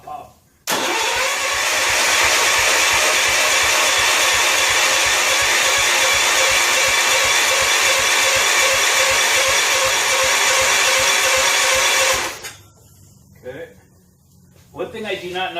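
Barn-find John Deere 140 H1 garden tractor cold-starting after decades, catching abruptly and running loud and steady close by for about twelve seconds before cutting off, leaving faint handling noises and a voice speaking afterward.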